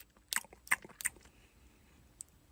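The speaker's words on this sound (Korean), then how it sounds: "냠냠 쩝쩝거리며 음식을 삼킨 남편이 말문을 열었습니다" Close, dry chewing and biting sounds made as a radio drama effect for someone eating food, with three crunchy bites in quick succession followed by quieter mouth noises and one faint click, no talking.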